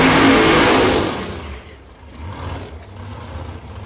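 A screw-blown Porsche drag racing car with a stand-up injector at Tulsa Raceway Park during Race Week; a loud engine roar that fades away within the first two seconds, leaving quieter distant engine rumble.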